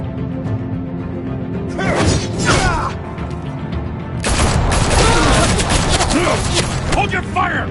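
Bursts of gunfire from several shooters in the Batman Telltale game, loud and close, coming in two heavy volleys with sharp cracks and impacts, separated by a brief lull.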